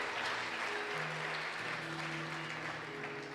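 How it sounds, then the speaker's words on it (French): A church congregation claps together in sustained, dense applause during a French-language worship service, a steady, even wash of many hands with no pauses. "Est-ce que vous pouvez acclamer pour vous-même?"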